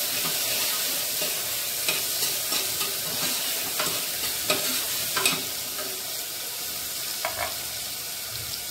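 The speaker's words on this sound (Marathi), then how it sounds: "आपण टोमॅटो टाकायचं, थोडंसं परतून घेऊया।" Tomatoes are sautéed in a pan for a val bean khichdi, giving a soft steady sizzle punctuated by occasional spoon scrapes and light taps throughout.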